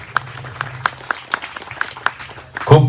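At a social media event, a small crowd claps in a steady, rhythmic beat to honor some young daughters, the claps close and crisp, ending in a louder burst.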